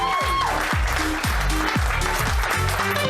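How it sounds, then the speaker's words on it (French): Audience clapping and cheering at a French-language stand-up comedy show, a steady dense applause filling the room throughout with voices mixed in. "Il va falloir qu'on applaudisse Joe Guérin"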